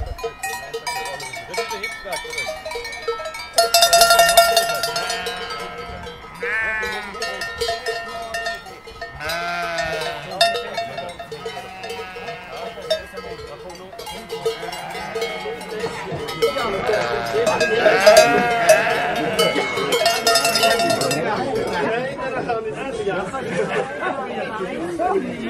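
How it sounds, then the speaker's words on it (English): Black Nose sheep in Randa, Switzerland, bleating amid a crowd at an outdoor event, with steady chatter throughout, occasional clanking cowbells and a few wavering bleats rising through the talk. "And more sheep around."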